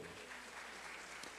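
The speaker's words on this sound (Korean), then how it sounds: "예, 박수." A church congregation at a Pentecost Bible recitation award ceremony claps for a prize winner, a brief, faint, even spread of group applause heard from a distance.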